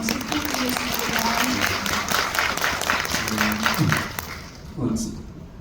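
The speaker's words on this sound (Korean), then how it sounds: "네, 큰 박수 부탁드리겠습니다." Audience applause at a Korean film screening Q&A for Pagwa, sustained clapping mixed with chatter and voices over it, then fading out near the end with brief speech.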